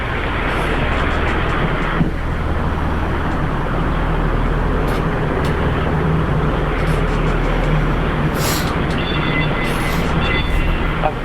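A train rolls along its tracks with a steady, loud rumble and dense mechanical rattle, unbroken for about eleven seconds, with a few brief higher clanks and squeaks on top.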